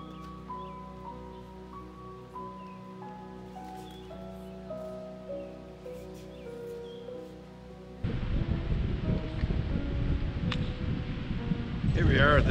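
Spring wind kicks up outdoors on a hillside, turning from a calm stretch with steady faint tones into a loud, broad, buffeting rumble that lasts to the end.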